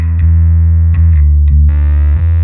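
A bass guitar played through a Darkglass Anagram multi-effects unit gives heavily distorted, buzzing sustained notes with a few quick note changes, loud and alone.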